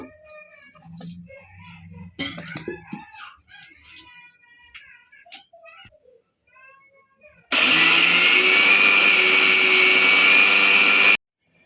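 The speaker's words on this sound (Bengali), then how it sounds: "এই যে এখন আমরা মিক্সিয়ে দিব। হালকা একটু জল দিব।" A mixer grinder whirs loudly and steadily for about four seconds as it grinds soaked raw rice with a little water, starting abruptly and cutting off sharply after quieter kitchen clatter and a speaking voice.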